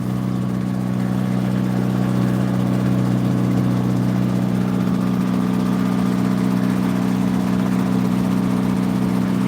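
An International Cub engine runs steadily on a 1940s wood splitter, giving a loud, unbroken droning hum with no pauses.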